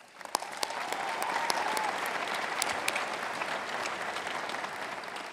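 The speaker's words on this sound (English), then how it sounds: "Let's give them a round of applause." Audience at a 2019 college commencement ceremony in Klamath Falls, Oregon, breaking into sustained applause, a dense wash of clapping that swells quickly and holds steady for several seconds at moderate distance.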